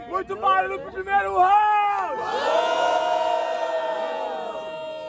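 A large crowd at a Brazilian rap battle semifinal, Batalha do Terminal in Ceilândia DF, roars and cheers after the first round, with loud shouts and whoops rising into sustained, dense cheering.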